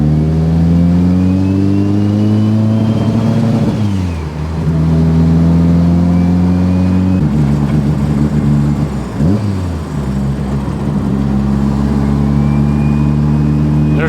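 A Mitsubishi Evo 8 drives along with a steady engine drone that rises and falls through gear changes, joined by a faint thin whistle-like squeal above the motor; no talking is heard over it.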